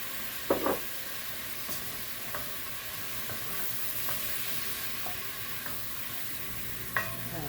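Flour being stirred into a cast iron pot roast with Worcestershire, a low continuous sizzle with scattered spoon scrapes and clanks against the iron, a louder knock near the start and another near the end.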